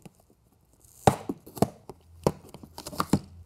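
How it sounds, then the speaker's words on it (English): Staples being pried out of a cardboard box with a Leatherman multi-tool, sharp irregular snaps and scraping clicks at close range, with small rustles of cardboard between them. "the first thing we need to do is pull some staples out of the box"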